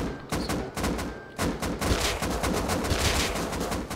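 Automatic weapon fire in the video game Rust comes as rapid, loud bursts of shots. Clusters of gunfire run almost continuously, with a brief break partway through.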